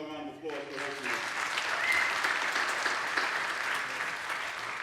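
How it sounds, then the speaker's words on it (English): Audience applause fills a high school auditorium during a council member's State of the District event, a loud, sustained clapping that starts after a brief voice and holds steady throughout. "let's give them another round of applause for hosting this."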